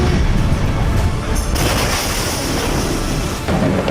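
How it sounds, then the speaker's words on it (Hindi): Massive explosion at the Beirut port, heard as a loud, sustained roar of broadband rumble with deep low-end energy lasting several seconds, no voices present. "पांच, चार, 3, 2, 1, 0 और दुनिया दहलाने वाला महाधमाका।"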